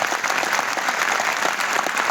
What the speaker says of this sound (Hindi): कमजोर तालियां नहीं चलेंगी, बिल्कुल नहीं चलेंगी।